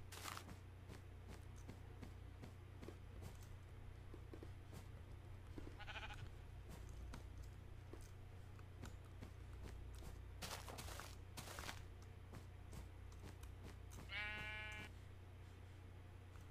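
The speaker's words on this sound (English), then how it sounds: "There's a sheep." Two short sheep bleats sound in Minecraft over a faint, steady background hum, with soft footstep-like taps scattered between them.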